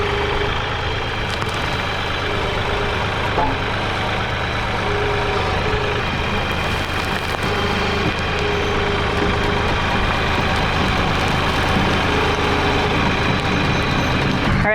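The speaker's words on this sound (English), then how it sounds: "brought the quad trailer to get some dirt" A quad bike hauling a heavily loaded trailer of dirt across an abandoned ranch, its engine a steady low drone that holds for the whole stretch with no talk over it.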